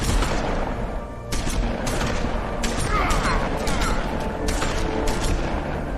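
Gunfire in a Telltale video game, rapid volleys of shots cracking in quick bursts over a loud steady background, sustained for several seconds.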